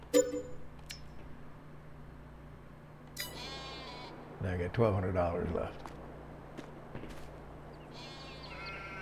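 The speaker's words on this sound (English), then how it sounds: "We'll get some little white sheep here." Sheep in Farming Simulator 22 give a short series of bleats in the middle of the clip, clear and close, with someone talking before and around them.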